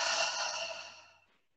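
A single long, breathy exhale during a yoga breathing exercise, soft and close, trailing away to silence after about a second.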